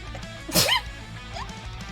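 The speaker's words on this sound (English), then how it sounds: "I'm going to sneeze" A single sharp sneeze bursts out close by, loud and sudden, standing alone against a quiet room background.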